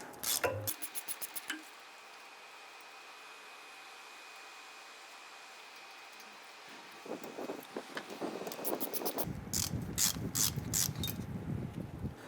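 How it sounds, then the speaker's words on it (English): A 13mm socket on a ratchet loosens a brake hose bolt on a 2002-2008 Dodge Ram 1500, with quick bursts of clicking at the start and end and a softer stretch between. "Using a 13mm socket, go ahead, loosen and remove this bolt right here."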